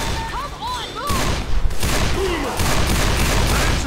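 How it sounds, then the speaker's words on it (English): Gunfire in Left 4 Dead 2 comes as loud, rapid bursts of shots mixed with in-game effects and whooshing tones. The shooting is close and heavy, with a sharp peak near the middle. "Why are you shooting me?"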